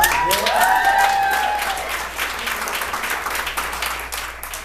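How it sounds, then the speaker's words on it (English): A comedy club audience in Scottsdale breaks into applause, a dense wash of clapping that starts loud with a few whoops and thins out over several seconds. "I like how about 2/3 of you clapped."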